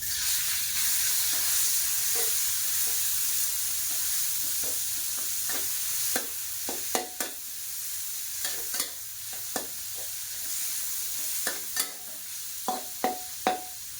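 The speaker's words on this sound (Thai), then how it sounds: "ก็ใส่ปลาเค็มพร้อมด้วยหมูเดี๋ยวเอาหมูลงไปผัดก่อน" Pork and salted fish stir-fry in hot oil, bound for a Chinese kale dish, with a continuous sizzle under repeated sharp scrapes and taps of a spatula against the pan that quicken toward the end, close up and without speech.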